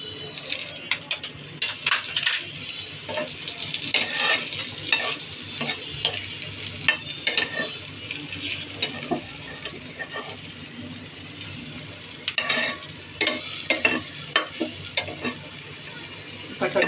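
Food frying in butter in a pan gives a steady close sizzle, with frequent scrapes and clinks of stirring and a faint watery trickle running throughout.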